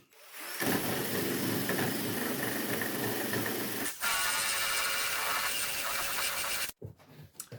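A homemade sanding drum, a round piece of wood on a long bolt with sandpaper glued to it, sharpens woodturning chisels with a loud, steady whirring grind. It dips briefly midway, then cuts off near the end.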